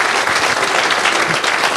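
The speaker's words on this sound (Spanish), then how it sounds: "Si le va a aplaudir, apláudale con todo su corazón." Sustained audience applause from a church congregation, dense and steady clapping filling the whole stretch at close range.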